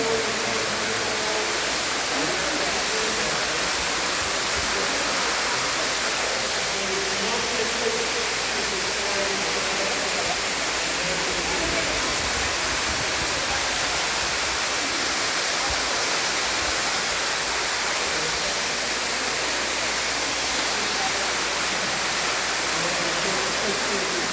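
Underground waterfall inside Ruby Falls cave on a lantern tour, a steady broadband roar of falling water that fills the space continuously, with faint voices underneath.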